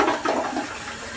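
A toilet flushing after a home repair, a steady rush of water swirling and draining, close and fairly loud, continuous through the whole moment with no talking.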